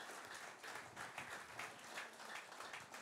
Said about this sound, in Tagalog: Yung malakas na palakpak para sa Lord.